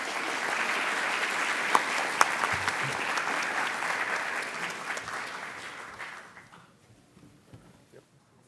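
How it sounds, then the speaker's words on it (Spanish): A university lecture hall audience gives a guest speaker, an economist, a warm round of applause, dense clapping holding steady for several seconds before thinning and fading out into near quiet. "Así que démosle un fuerte aplauso al nuestro invitado."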